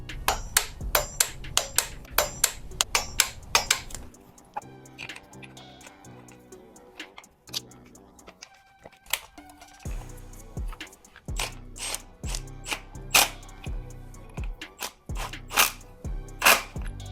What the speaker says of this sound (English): I'm gonna go ahead and torque all the hardware down to specification.